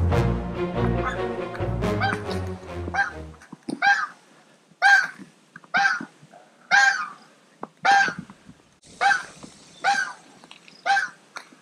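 A goose honks repeatedly in loud, evenly spaced calls, close by, after a stretch of music at the start.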